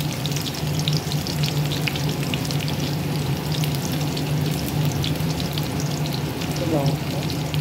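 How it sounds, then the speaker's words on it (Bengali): Sliced onions and chillies fry in hot oil in a pan, giving a loud, dense, unbroken sizzle with faint crackles heard close up and no one talking. "এবার ভাজা ভাজা করবো, লাল লাল হবে"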